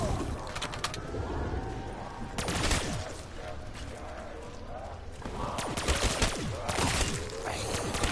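Gunfire in Call of Duty zombies on Nacht Der Untoten, with several sharp shots in bursts over dense game background noise and effects.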